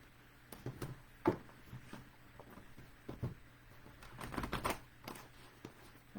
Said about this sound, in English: sorry about that annoying noise of shuffling